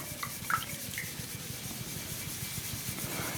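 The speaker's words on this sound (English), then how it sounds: "And we are going to scrub." Wet steel wool scrubbing a tumbler to give it a matte finish: a steady, rhythmic rubbing scrape that runs close and continuous throughout, with a few faint higher squeaks near the start.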